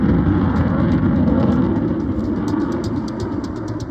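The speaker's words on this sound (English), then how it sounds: "Into full afterburner there and just climbing away from that very slow speed." F-35A fighter jet climbing away in full afterburner at an air show, a loud, sustained roaring rumble that fades slightly as it recedes.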